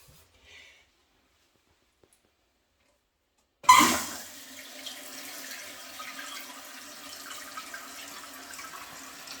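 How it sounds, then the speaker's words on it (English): After a few seconds of near silence, water suddenly rushes into a toilet tank with a loud hiss, then settles into a steady, continuous filling stream. "Now you want to fill the toilet, and let's see how it works."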